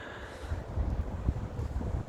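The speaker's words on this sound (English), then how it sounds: "It's very windy today, so it's being blown around." Wind gusts outdoors on a very windy day, buffeting the microphone with low, uneven rumbling bursts that rise and fall throughout.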